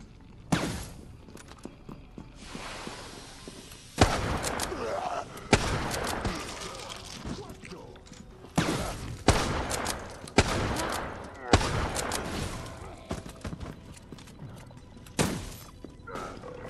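Bursts of gunfire in the online game Resident Evil Resistance, loud sharp volleys and rattling shots coming in irregular clusters with short lulls between them, mixed with crashing impacts.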